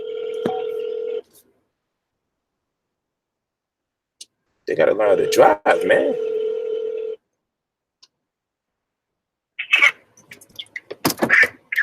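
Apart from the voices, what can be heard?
telephone dialing and ringing for a call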